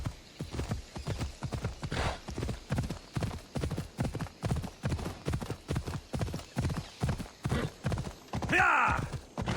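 Horse galloping in Assassin's Creed Odyssey, a loud, steady rhythm of heavy hoofbeats throughout, with a short whinny near the end.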